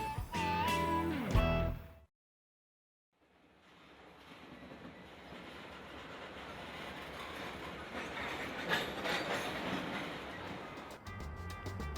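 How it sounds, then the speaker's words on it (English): A long, empty northbound coal train rumbles steadily past through cotton fields at Dumas, Arkansas, after a brief silence, a continuous broadband roar with faint rhythmic wheel clatter building toward the end. "This empty coal train is northbound through the cotton fields at Dumas."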